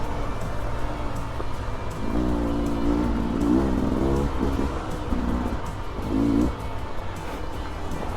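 A 2024 Beta 300RR dirt bike engine runs steadily throughout, with a few rising revs that swell and fall back, fairly close and loud.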